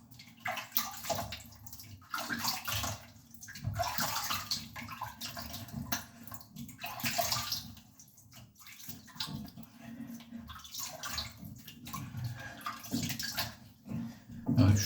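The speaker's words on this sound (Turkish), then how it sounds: "Şöyle bir yüzümü yıkayayım," A face being washed with running water after a straight-razor shave, with repeated splashing bursts over a steady stream of tap water, close and continuous.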